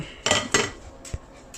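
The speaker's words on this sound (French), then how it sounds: "je vais mettre le plat comme ça, sur la table" A serving dish of garlic hummus is set down on a table with two quick ceramic clacks, then a softer knock a moment later, close and sharp with no voice.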